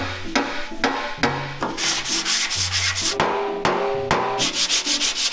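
Repeated sanding across an epoxy-coated build, with broadband rasping strokes and intermittent sharp knocks, loud and close throughout with no talk.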